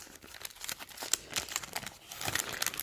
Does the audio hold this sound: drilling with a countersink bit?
no